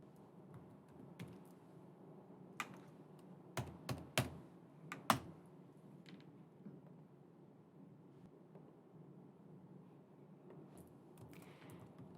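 Fairly quiet keyboard typing while an account is set up: a cluster of sharp key clicks near the middle over a soft room hum, then near silence.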